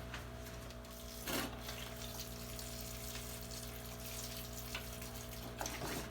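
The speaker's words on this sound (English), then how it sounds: "get some water and give this thing a little dousing" Water pours steadily from a can into the soil of an orange blossom bonsai house plant, a soft continuous trickle over a low steady hum with a couple of brief splashy bursts.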